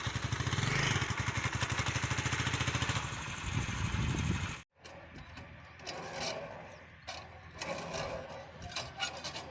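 A motorcycle being ridden by kids chugs steadily at close range for several seconds, then cuts out abruptly before a quieter, uneven engine note and outdoor noise return.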